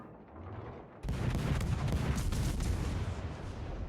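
Naval guns of a US Omaha-class cruiser fire in World of Warships, a heavy boom that bursts in after a quiet moment and rolls into a sustained, dense roar of gunfire and rumble.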